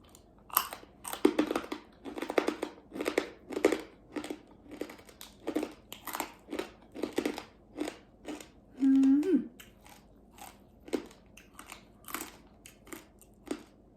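Someone bites into hard, crispy homemade pork cracklings, producing close, loud crunches in a steady chewing rhythm that carries on through the stretch with a brief murmur partway.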